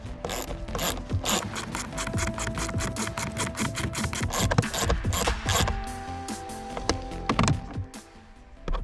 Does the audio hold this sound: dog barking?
no